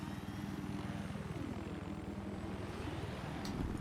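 A helicopter in Battlefield 4 during an 8v8 Conquest match drones steadily with a continuous rotor thrum and engine whine, fairly loud and unbroken, with no talk.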